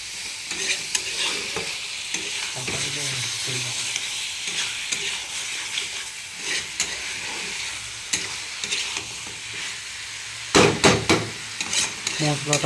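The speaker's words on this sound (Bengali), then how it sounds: "মশলাটা কষিয়ে নিচ্ছে" Spice paste for block chicken sizzles loudly in a pan while a spatula scrapes and stirs it in quick repeated strokes, with a few sharper clanks near the end.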